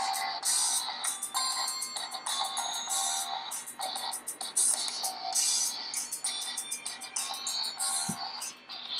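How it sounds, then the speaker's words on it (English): Music plays continuously through an Honor Bee phone speaker at maximum volume, bright and tinny with little bass, at a steady loud level for the whole stretch. "let's play a music track on this phone"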